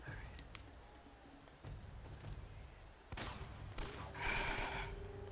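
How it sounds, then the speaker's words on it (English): Enemy shotgun blasts ring out in Uncharted: Drake's Fortune, several sharp bursts at a distance, one cluster near the end, over low game ambience while a voice talks faintly underneath. "these guys using shotguns from long range"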